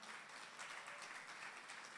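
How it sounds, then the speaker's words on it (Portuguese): Church congregation applauding the Lord during a worship service, a steady, fairly quiet wash of many hands clapping that runs unbroken from start to finish with no voices over it. "Pode aplaudir o Senhor"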